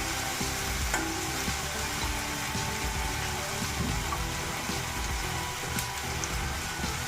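Deseeded tomatoes with a little sugar fry in a pan for a vegetarian broken-wheat dal khichdi, a soft, continuous sizzle with occasional stirring scrapes, quiet and close, with no talking.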